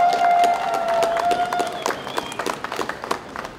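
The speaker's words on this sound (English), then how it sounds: "Give yourselves a round of applause" A crowd at a Euromaidan gathering in Toronto bursting into applause, a dense wash of clapping that starts under a sustained tone and thins into scattered claps at the end.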